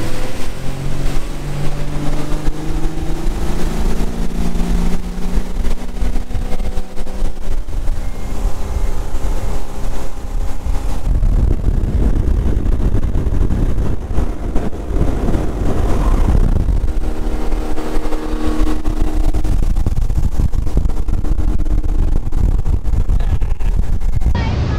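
A loud motorboat engine on Tattersall Lakes drones and rises in pitch over a steady rush of wind and water, close to the microphone throughout.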